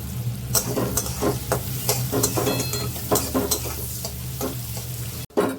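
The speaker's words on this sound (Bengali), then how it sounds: "পেঁয়াজটা আমার লাল লাল করে ভাজা হয়ে গেছে" Onions fry and sizzle in a pan while being stirred, giving a steady close sizzle broken by regular scraping strokes of a spoon, with a sharp knock near the end.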